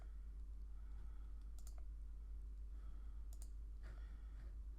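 Faint, sparse clicks of computer keyboard typing, a few scattered keystrokes in short clusters over a steady low hum.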